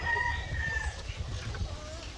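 Chickens in a farm coop cluck and crow faintly against a steady low background murmur, with a few thin calls rising over it.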